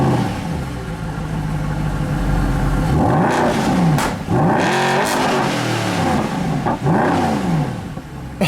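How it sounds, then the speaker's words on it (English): A Mercedes-Benz SLS AMG Roadster's big naturally aspirated V8 revs hard through its exhaust, loud and close, rising and falling in several throttle blips from a rumbling idle. "This giant naturally aspirated V8 sounds pretty good."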